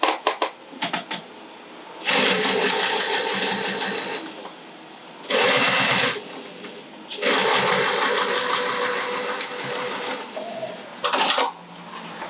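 A sewing machine runs a second row of stitching on a MEW Designs Marie tote bag. Its needle chatters rapidly in three long bursts, with short pauses and light clicks between them, loud and close.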